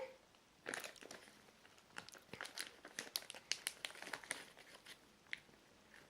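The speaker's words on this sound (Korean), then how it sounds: "지퍼백이 있어서 이렇게" A resealable plastic zipper bag of heart-shaped apple-flavoured jelly candies is handled up close, giving off soft, irregular crinkles and rustles over several seconds in an otherwise quiet room.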